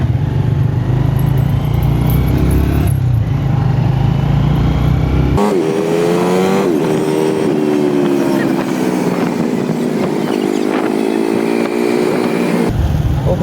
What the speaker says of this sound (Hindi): सड़कों से तो लग रहा है बहुत रश होगा क्योंकि सड़कें तो भरी पड़ी हैं पूरी ट्रैफिक के साथ